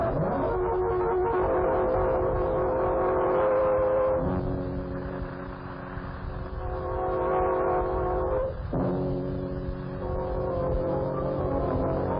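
Train running in an old radio drama sound effect, a steady rumbling clatter with sustained whistle-like horn tones rising and shifting, loud and continuous throughout with no talk over it.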